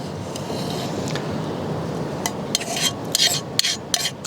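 A spoon scrapes the last grains of rice from a pot at a wild campsite: soft, steady rasping close by, with a few sharper scrapes and clicks toward the end and no voices.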